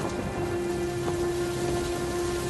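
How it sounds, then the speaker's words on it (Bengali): Heavy rain and storm in a cartoon village, a steady dense downpour hiss with a constant tone underneath, no voices. "এই ঝড় বৃষ্টিতে তোর বাবা বাইরে কি করছে?"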